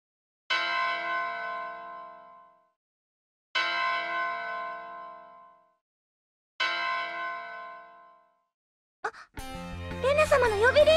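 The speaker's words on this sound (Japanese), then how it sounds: "レナ様の呼び鈴、目覚められたのですね。" Three separate strikes of a resonant bell in a video game, each ringing out and decaying slowly with even pauses between them, followed by a brief burst of game music.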